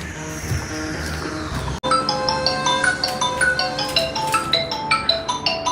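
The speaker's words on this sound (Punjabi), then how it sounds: "ਆਪ ਹੀ ਫੋਨ ਆ ਗਿਆ" A mobile phone ringtone for an incoming call in a Punjabi short drama: a clear, bright chiming melody starts abruptly and repeats in a steady rhythm of rising and falling notes, close and fairly loud, with no talk over it.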